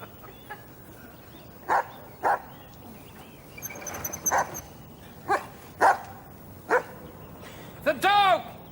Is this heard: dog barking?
yes